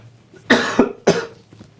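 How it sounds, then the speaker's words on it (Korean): A man coughs twice in close succession, loud and near, in a quiet room, with nobody talking. "기침 좀 한번 할게요."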